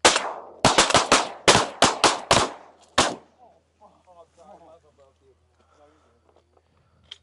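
Shotguns firing during a duck hunt, a rapid volley of about nine loud, sharp blasts close by within three seconds, followed by quieter voices talking and one faint distant shot at the end.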